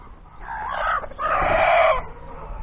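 Young Gurk pullets cluck in two sustained, fairly close bursts of throaty calls, with a short pause between them over a quiet background.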